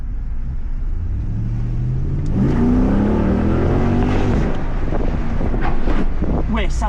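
Jeep SRT8 V8 accelerating hard, the engine note climbing steadily in pitch as it pulls through the gears, heard from inside the cabin over wind noise, loud and close.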